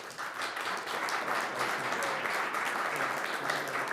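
A city council chamber audience applauds a team in a steady, dense wash of clapping from many people, moderately loud and continuous throughout with no speech over it.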